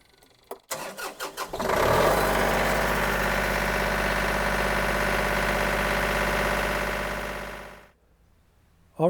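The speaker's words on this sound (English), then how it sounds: "After 30 seconds, we can turn the engine over and it should start up just fine." A John Deere 2032R compact tractor engine cranks in a few quick bursts, catches and settles into a loud, steady idle close by, then shuts off and winds down near the end.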